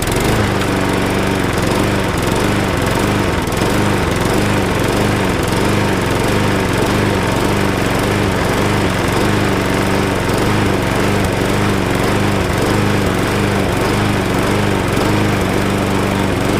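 A Briggs and Stratton lawn mower engine, freshly fitted with a swapped carburetor, runs loud and steady from start to finish with a constant droning buzz and no talk over it.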